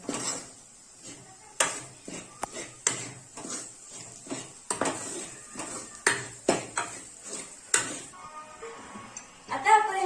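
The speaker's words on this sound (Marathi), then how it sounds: "आता आपण सगळ्याला मिक्स करून घेऊया." Cooked food being mixed with salt in a pot for a mutton thali, with a spoon clinking and knocking against the metal in irregular, close taps and scrapes.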